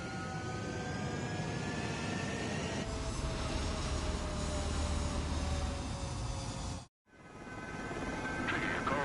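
Fighter jets taking off from a runway in the Ace Combat video game, a loud sustained engine roar with whining tones that swells, cuts out abruptly for a moment, then resumes.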